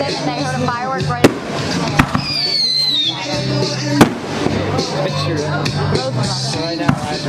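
Legal consumer fireworks go off outdoors with several sharp bangs and crackling bursts spread across the clip. Whistling and sizzling run between the pops, and a person talks throughout.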